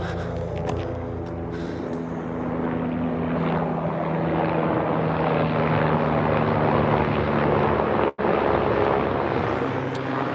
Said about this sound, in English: That's a medevac chopper.